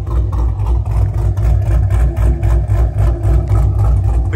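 A 2014 Chevrolet Camaro SS V8 idles close by, a loud, deep, lumpy rumble that pulses steadily throughout with no talk over it.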